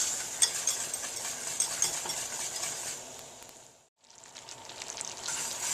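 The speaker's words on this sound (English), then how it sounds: "As the mixture heats up, you'll want to stir it together so it doesn't burn." Soft scraping and bubbling hiss of a spoon stirring a hot sugar mixture for marshmallows in a pan, nearing a hard boil, steady throughout with a brief pause near the end.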